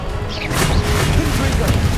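A Stupefy spell is cast in the Hogwarts Legacy video game, giving a sharp crashing burst about halfway through over a steady rumbling game backdrop, with a voice present.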